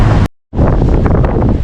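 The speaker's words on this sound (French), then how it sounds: "Bon, on est toujours dans le gros vent." Strong wind of 25-30 knots buffets a sailboat at sea off Corsica, a loud continuous roar of gusts and rushing air across the microphone, cut by a brief silent gap.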